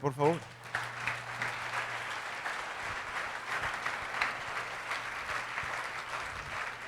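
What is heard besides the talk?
congregation applause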